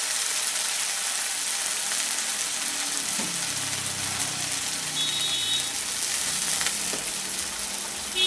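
Slit green chillies, chopped tomato and a splash of water hitting a hot pan for prawn and kohlrabi curry, a loud continuous hiss of sizzling with occasional clatter, no voices.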